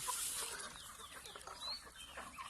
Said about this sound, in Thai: ไก่กำลังกินเงียนะครับพี่น้องตอนนี้